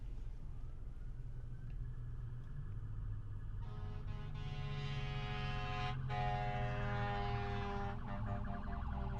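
Fire truck and police car sirens wail in the distance, rising and falling tones building louder partway through over steady low traffic rumble.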